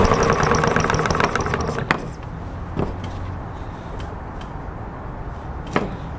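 An ET8 engine is cranked during a cold start attempt, a loud close rhythmic churning for about two seconds that then stops, followed by a quiet low hum and a few sharp clicks.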